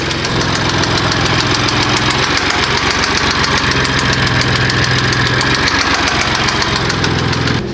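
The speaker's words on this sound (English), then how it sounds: "Sounds like it's your valve train." BMW M4 engine with a valve train fault ticking steadily, a continuous close, loud mechanical clatter over a constant idle-like rumble with no break in the rhythm.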